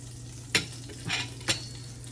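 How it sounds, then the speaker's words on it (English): Bread cooking in a frying pan, with a low steady sizzle underneath three short spatula scrapes or taps spaced about half a second apart. "I'm going to turn this bread. Cook the other side."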